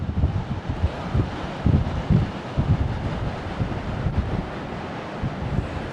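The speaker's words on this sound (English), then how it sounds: "And it is ridiculously windy up here." Strong gusting wind on an Isle of Man hilltop buffets the microphone with loud, uneven rumbling roar throughout, with no voices.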